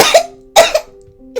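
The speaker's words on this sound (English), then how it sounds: "a phlegmy cough." A phlegmy, wet cough from a man who has been sniffling, heard as two close, loud bursts with a shorter third sound at the end.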